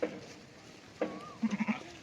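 Sheep bleat nearby in short calls, two single bleats followed by a quick wavering run of bleats, outdoors on a hillside with faint background noise.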